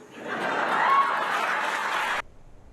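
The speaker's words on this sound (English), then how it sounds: "And she got a lot of applause there at the Reagan Library." An audience at the Reagan Library breaks into applause, a dense wash of clapping that swells and holds steady, then cuts off abruptly near the end.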